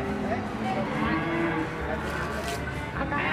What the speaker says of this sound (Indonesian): Dan hadirnya sapi-sapi PO besar-besar ini tidak untuk dijual teman-teman